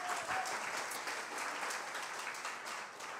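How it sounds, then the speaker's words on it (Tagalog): A congregation applauds during a church sermon, a dense, sustained wash of clapping from many hands that holds steady throughout. "Pwede kayong pumalakpak kung gusto niyo."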